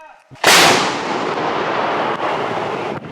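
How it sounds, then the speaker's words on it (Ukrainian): Ukrainian artillery fires toward a village: one heavy blast bursts in abruptly and rolls on as a long, loud, reverberating boom that fades slowly across the open distance, with no voices. "лише чуємо, як важко працює українська арта в напрямку кіндратівки"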